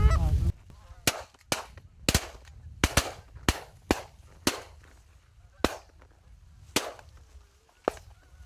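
Geese honking in flight over a Michigan hunting area, a string of sharp, loud calls repeating irregularly over several seconds, with a low rumble of wind or ground noise underneath.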